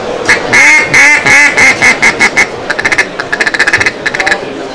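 A loud, close mallard duck call, a handmade hunting call: a series of raspy quacks, first long and drawn out, then quickening into a rapid descending chatter.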